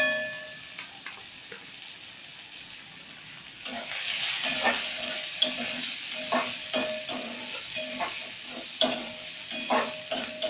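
Onion frying in oil is stirred with a spoon: quiet sizzling at first, then from about four seconds a louder crackle with regular scraping strokes and clinks against the pan.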